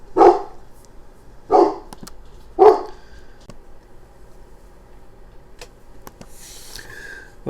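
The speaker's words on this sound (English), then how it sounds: "Sorry for the dog." A dog barks three times in loud, close bursts about a second apart, then goes quiet, leaving only faint room noise and a few small ticks.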